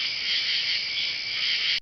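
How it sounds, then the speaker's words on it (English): A cricket chirps in a dense, continuous high trill that holds steady for nearly two seconds before cutting off, heard alone and moderately loud. "cricket,"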